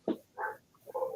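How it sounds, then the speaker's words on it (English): A dog barks several times in the background, short separate yelps spaced across a brief moment, at moderate loudness with no talk over them. "Excuse my dog in the background."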